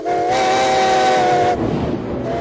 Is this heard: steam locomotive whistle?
yes